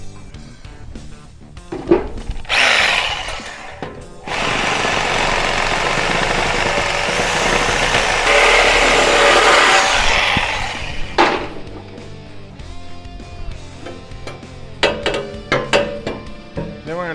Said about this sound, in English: I'm going to stop for a second because I'm going to cut down the tailpipe.